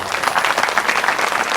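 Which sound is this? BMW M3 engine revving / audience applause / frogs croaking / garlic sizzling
audience applause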